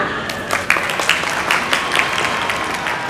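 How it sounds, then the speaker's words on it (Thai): Applause from an audience at a Japanese skincare brand's product launch press event in Thailand, a steady wash of clapping with scattered sharper claps, moderately loud and continuous throughout. "ขอเสียงปรบมือให้กับงานวันเปิดตัววันนี้ด้วยค่ะ"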